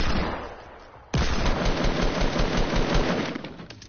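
Rapid automatic gunfire in the Fortnite video game, a loud sustained burst of shots that starts abruptly after a quieter stretch and keeps rattling steadily until fading at the end.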